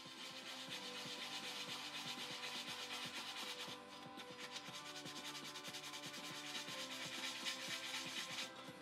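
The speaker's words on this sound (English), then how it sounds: "probably could start sanding it a little bit now" Light, steady sanding of a craft item, a continuous dry rubbing and scratching close by that runs unbroken for several seconds with only slight changes in pressure and no talk.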